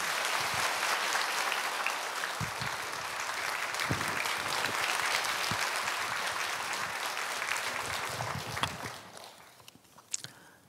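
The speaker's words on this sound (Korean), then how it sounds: "우리 박수로 환영합니다." A church congregation at a New Year revival service claps to welcome the pastor. The dense, steady applause from a large room continues for about nine seconds, then thins to scattered claps and fades.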